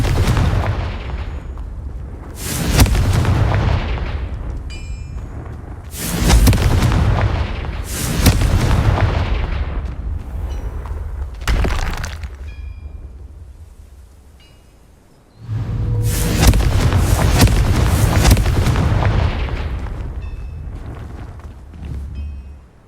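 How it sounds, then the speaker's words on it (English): Confringo spell blasts in the Hogwarts Legacy video game, five loud booming explosions at uneven intervals, each decaying into a rumbling tail, with no talk. "Confringo!"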